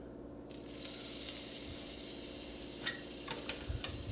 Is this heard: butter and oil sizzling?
yes